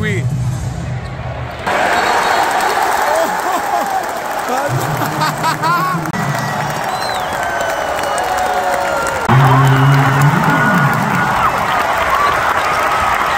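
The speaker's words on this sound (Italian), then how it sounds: "Il tifo vero è qui." Large crowd roaring and cheering at an NCAA college basketball game in an American campus arena, a steady loud din with swells of applause and a basketball bouncing, people talking close by over the noise.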